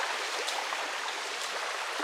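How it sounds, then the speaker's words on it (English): A river at a crossing on a forest hiking trail in Trinidad rushes and burbles steadily, close and continuous with no voices. "We're crossing the river again. You can hear it."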